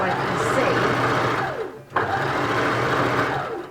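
A sewing machine stitches the hem of scrubs trousers, a loud, fast mechanical whir in two bursts separated by a brief pause, with a voice speaking over it.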